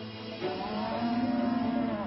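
Cattle in a concentrated animal feeding operation low in a long, drawn-out moo that swells and holds. Herd noise and a steady murmur of livestock fill the background.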